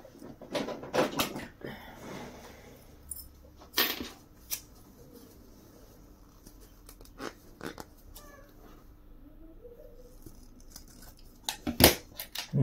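Scissors snipping during sewing work on a zipper, a few crisp close cuts scattered among handling clatter, with faint soft talk in places.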